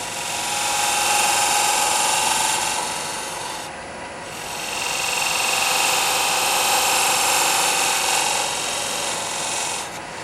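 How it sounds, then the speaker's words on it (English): An oscillating multi-tool trims a wooden shoulder in a steady, close, continuous buzzing rasp that briefly dips in intensity partway through before resuming. "I'm going to go to my little multi-tool to clean up that shoulder."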